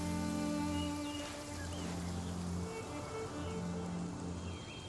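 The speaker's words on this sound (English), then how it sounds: "The sound of the rain scares them away, but once it stops, they're yours for the taking." Steady rain patters down in Genshin Impact, soft and even beneath tonal game music, with no voices.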